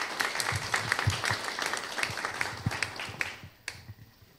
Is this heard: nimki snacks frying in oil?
no